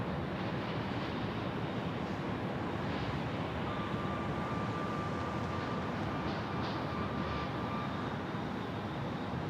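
Frontier Airlines airplane landing on runway 8 at Phoenix Sky Harbor Airport, heard as a steady, broad engine roar that holds loud and continuous throughout, with no voices.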